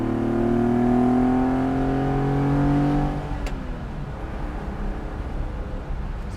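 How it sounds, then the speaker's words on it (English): A Citroen SM pulls away in second gear, its engine revving loudly with rising tones as the carburetors open up, then easing off after about three seconds into steadier road and engine noise. "Hear the carburetors open up."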